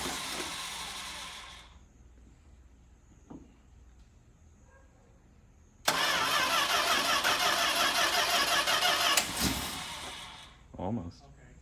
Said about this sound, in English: right there was, it almost started, and we finally now have gas in the carburetor